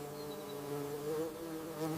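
A hornet buzzes close by with a steady droning hum that wavers slightly in pitch, alone and continuous throughout.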